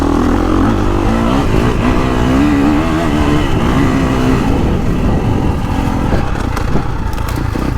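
A KTM 350 SX-F dirt bike engine runs steadily and loudly up close, its pitch wavering as the throttle rises and falls while riding a woods loop.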